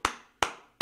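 Three sharp, isolated claps at slow, even intervals, close and crisp, with nothing else around them.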